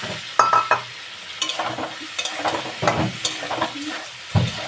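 Pointed gourds being stirred into a poppy seed, cashew and green chilli paste masala in a pan, with a soft sizzle broken by repeated close scraping strokes of a spatula.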